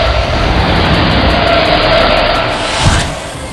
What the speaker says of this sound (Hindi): मनोज गाड़ी को तेज रफ्तार से लेकर जा रहा है